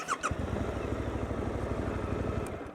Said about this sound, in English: you only push it and the bike does it for you